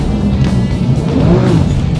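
A Porsche 911 GT3 engine gives a quick throttle blip during a heel-toe downshift, a loud close revving rise and fall of the flat-six under steady engine drone, with no talking.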